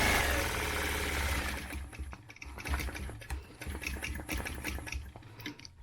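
Sewing machine doing ruler quilting, with a loud burst at first and then a series of quick stitching bursts and clicks, close by.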